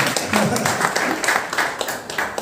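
Scattered applause from an audience at a Yes World speech event, irregular claps of moderate loudness mixed with voices talking over them.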